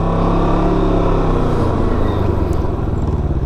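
A Can-Am Ryker three-wheeler with a clutch or drive noise after a rear collision: a steady, loud mechanical drone with a low rhythmic rumble, running continuously without talk.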